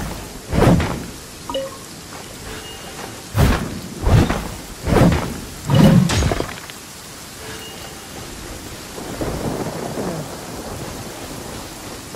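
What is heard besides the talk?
thunderstorm with rain in the video game Genshin Impact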